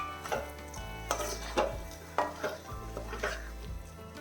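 A spoon stirs raw jackfruit avial with curry leaves and coconut oil in a pan, making repeated close scraping strokes over a soft sizzle, in a steady rhythm roughly every half second.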